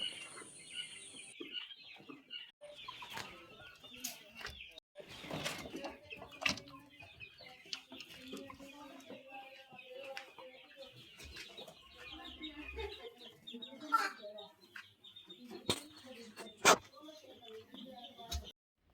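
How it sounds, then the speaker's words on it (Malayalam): Chickens cluck and chatter in the background with scattered sharp calls, on a farm that also keeps quail, while people talk over them throughout. "ഒരുപാട് വെറൈറ്റി കോഴികളും കാടകളൊക്കെ"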